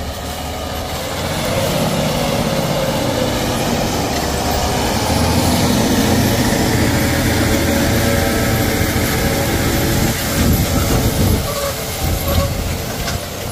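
A John Deere 9RX 640 quad-track tractor runs close by with a heavy, steady, loud rumble, while metallic squeals and clanks rise through it.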